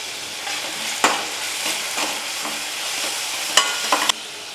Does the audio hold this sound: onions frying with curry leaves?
yes